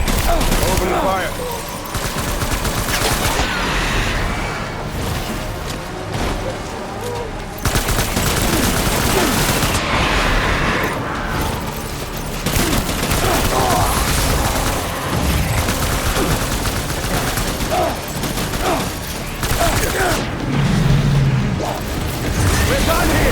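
Sustained gunfire in the Death Stranding video game crackles and rattles for over twenty seconds, dense bursts mixed with mechanical clatter and booms, loud and continuous with brief lulls.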